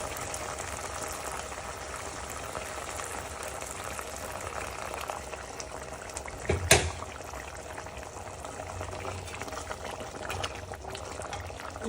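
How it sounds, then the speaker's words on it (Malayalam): Boiling water poured into a simmering fish masala for neymeen (seer fish) pickle gravy, a steady bubbling boil with liquid splashing, plus one sharp brief clatter partway through; no talking. "നമുക്ക് തിളച്ച വെള്ളം ഒഴിക്കാം ഗ്രേവിക്ക് വേണ്ടിയിട്ട്"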